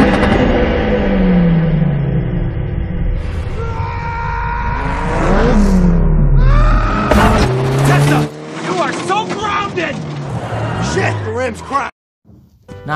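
Chevrolet Sonic car in a Transformers film action scene: engine roars and revs rising in pitch, with tire squeals and skidding, loud and close, mixed with film score and voices.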